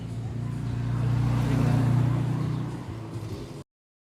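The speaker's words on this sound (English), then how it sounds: "let me get you back on the scooter" Scooter ride through Philadelphia city streets on a summer afternoon: a steady, fairly loud engine hum swells and holds for about three seconds with faint traffic around it, then cuts off abruptly.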